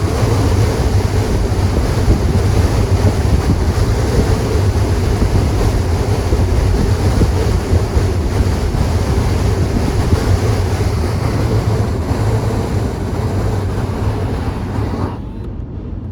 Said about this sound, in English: The vibration we're hearing is just behind my head.